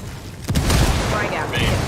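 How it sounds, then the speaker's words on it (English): A frag grenade detonates in Ghost Recon Wildlands, a sudden loud boom with a rumbling tail under game combat noise and some talk. "Bad guys are reacting to the Frag blast"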